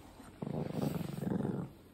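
A small dog growls during play, a near, rumbling growl that rises after a quiet start and holds for over a second before fading.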